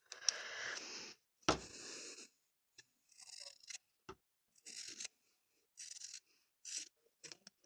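Scissors snip along the edges of a fabric face mask, with a few longer cuts followed by a series of short, separate crisp snips, close and quiet with pauses between them.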